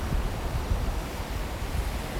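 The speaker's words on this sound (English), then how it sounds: "Can you hear the waves?" Steady wash of ocean surf, a continuous broadband rush of waves with some wind buffeting the microphone, no voices.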